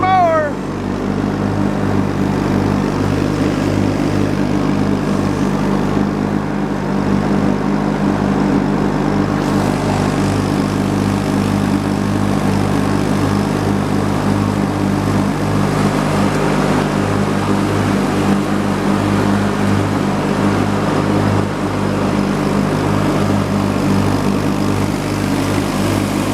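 A lawn mower engine runs steadily at a sawmill, a close, constant drone with a strong low hum that holds without pause.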